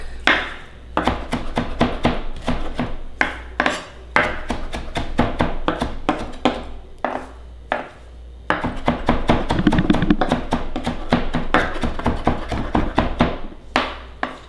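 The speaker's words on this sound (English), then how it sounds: "I'm just gonna chop that up real quick." A knife chopping leafy herb stems for guacamole on a cutting board, a fast steady run of sharp close taps broken by a couple of brief pauses, loud and alone.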